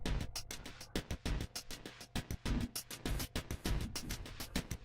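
An electronic drum kit run through an Arturia EFX Motions effect plays a tight, punchy rhythmic pattern with sharp, evenly spaced hits and pumping, gated swells, heard alone and fairly close.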